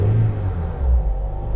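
Engine of a 2004 Honda Element revving to just over 2,000 rpm, a close, loud low rumble that swells briefly and settles, heard alone.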